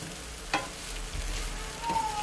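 Noodles and vegetables frying in a pan while being stirred with a spoon, a steady close sizzle with a sharp scrape or clink of the spoon partway through and light stirring movement after.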